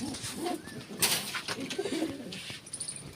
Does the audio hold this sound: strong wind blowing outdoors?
no